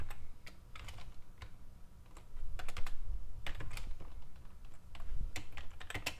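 Someone types on a computer keyboard in uneven bursts of close, crisp key clicks, with short pauses between flurries, while nobody speaks.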